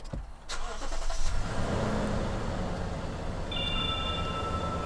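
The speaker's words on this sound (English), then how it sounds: "Let's go ahead and turn on our engine." A Lexus GX460 SUV engine cranks and catches with a short burst, then settles into a steady, fairly quiet idle rumble heard close by.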